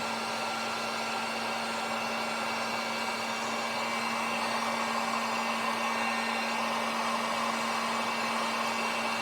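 A hair dryer blows a steady, even whir close by while heating the hands of a McFarlane Toys DC Multiverse action figure, running unbroken with no talk.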